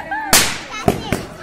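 Firecrackers going off at a Dussehra Ravan Dahan celebration in Bhiwani, Haryana: a sharp nearby bang followed by two more quick pops, over outdoor crowd background.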